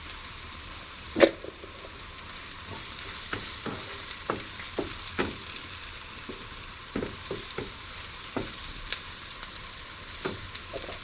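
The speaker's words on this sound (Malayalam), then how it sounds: "നമ്മൾ കട്ട്ലറ്റ് വറുത്തെടുക്കുന്നുണ്ട്." Kerala-style beef cutlets fry in hot oil with a soft, steady sizzle, broken by sharp pops and crackles at irregular intervals.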